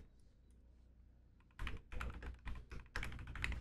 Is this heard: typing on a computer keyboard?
yes